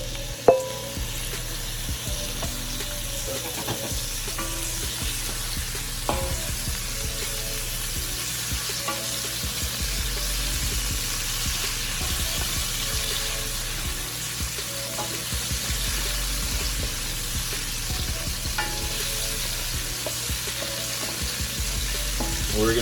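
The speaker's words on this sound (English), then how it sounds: "Add a little bit of oil, about 2 tablespoons. Then we're just going to saute our shrimp." Shrimp sautéing in about two tablespoons of oil in a pan, a steady loud sizzle that carries on continuously with occasional crackles and stirring clinks, no talking.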